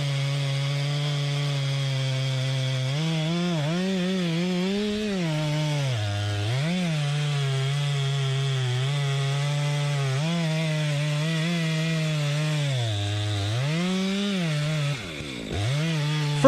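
A chainsaw cuts into a large tree, its loud, continuous engine whine dipping in pitch several times as the chain bogs under load, then recovering, heard alone without voices.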